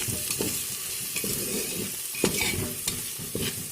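Spoon stirring coriander powder, turmeric and Kashmiri chilli together in a frying pan for egg biryani, with repeated scraping strokes over a steady low sizzle, close and moderately loud.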